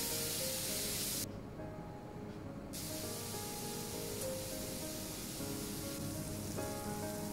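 Onions and tomatoes sauté in a pan with a steady, close sizzling hiss that runs throughout, briefly dipping before resuming.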